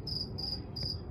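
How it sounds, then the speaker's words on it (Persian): A cricket trapped inside a metal box chirps loudly in three rapid trilling bursts, shrill and close, ringing against faint outdoor background noise. "نگاه کن یه جیرجیرک صداش چقدر زیاده."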